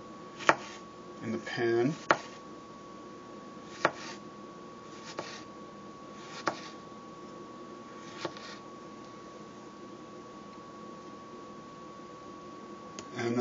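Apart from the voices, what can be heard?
knife slicing tomatoes thinly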